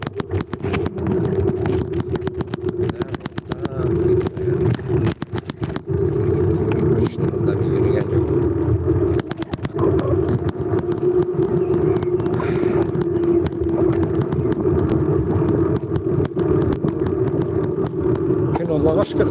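A car drives along steadily with its engine droning loud and close throughout, and people talk over the running vehicle.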